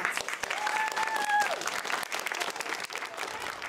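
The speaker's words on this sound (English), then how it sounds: "Let's give them a round of applause" A school class and audience applaud to welcome OCEARCH visitors in Jacksonville, a dense, steady wash of clapping from many hands, fairly distant and even throughout, with a brief whistle-like tone near the start.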